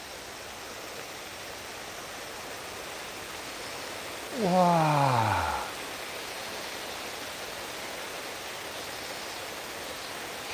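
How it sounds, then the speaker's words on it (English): Water flows steadily as a constant, soft rushing hiss near stairs at Edogawabashi in Japan. A person briefly exclaims partway through. "Can you hear the water?"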